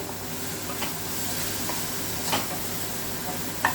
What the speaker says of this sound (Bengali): এখানে আমার পেঁয়াজ আর টমেটো আদা রসুন পুরো ভাজা হয়ে গেছে সুন্দর করে